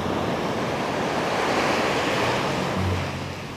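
Ocean waves wash onto an eroding sandy beach at Liwliwa, a loud continuous rushing surf with wind noise that eases slightly toward the end, with no voices.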